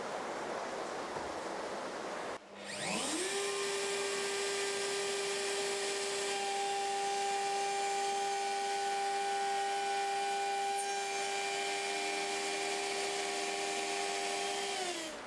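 Wood router cutting a dovetail joint in a woodworking workshop: a loud, steady motor whine that spins up after a brief pause and then holds at a constant pitch with broadband cutting noise, close and alone without talk.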